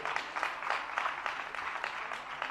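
Audience claps during an honouring ceremony at a religious discourse gathering, steady rhythmic applause from a crowd sustained across the whole moment at moderate volume.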